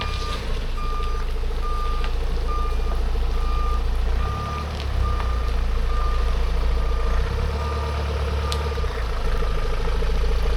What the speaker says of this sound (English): And it's got a beeper!